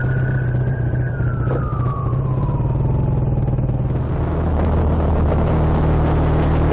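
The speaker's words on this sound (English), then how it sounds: "Incident response vehicle and an ambulance, and a few seconds later" Sirens from an incident response vehicle and ambulances sound in slow traffic, a single wailing tone sweeping down then fading against a loud, steady engine drone, no voices.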